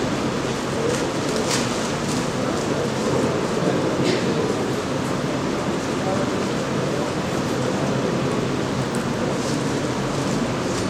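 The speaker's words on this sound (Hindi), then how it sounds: "बारिश रुकी नहीं शायद।" Rain with thunder plays as a stage sound effect during a Hindi theatre performance at a drama festival in Ambala: a steady, heavy rushing roar with low rumbles throughout, no voices rising above it.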